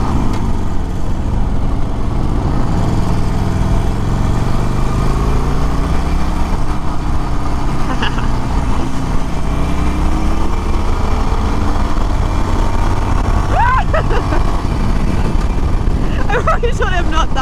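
A 2021 Harley-Davidson Iron 1200 Sportster motorcycle ridden on an open road in the Okanagan, British Columbia, its engine rumbling steadily under heavy wind noise, with a brief rising rev near the end.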